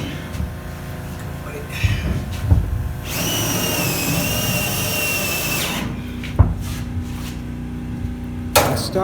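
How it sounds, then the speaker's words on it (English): Power drill driving screws into ceiling battens inside a narrowboat, one sustained whining run of about three seconds between scattered knocks and handling clatter, with a sharp thump afterward. "I started drilling in 5 screws"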